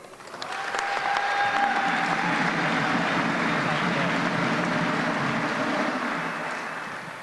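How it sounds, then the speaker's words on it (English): Applause from an audience at a press conference in Nashville swells quickly and holds as a steady, moderately loud clatter of clapping for several seconds before tapering off slightly. "please give me a round of applause here"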